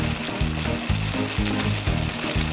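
Shaving cream stirred into a vase of water froths with a close, continuous fizzing and bubbling hiss under rhythmic background music, with no speech.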